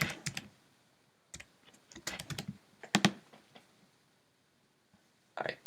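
Quiet, sparse typing on a computer keyboard, with scattered clusters of key clicks separated by short silent gaps, heard close and alone.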